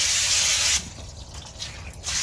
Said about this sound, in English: We're just using a nozzle here. It's on flood. And we're just going to wet this thing down.